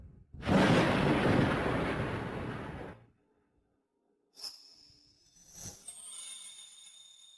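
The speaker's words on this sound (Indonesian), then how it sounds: "Suara petir tidaklah menakutkan," A heavy thunderclap booms and rolls for a few seconds, then cuts to silence before fainter rumbles and a bright crack with a ringing tone.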